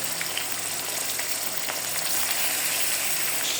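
Chicken pieces frying with onions in oil for biryani give a steady, close sizzle that fills the whole stretch, with a few faint scrapes of stirring and no one talking.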